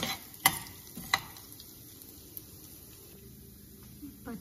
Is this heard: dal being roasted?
yes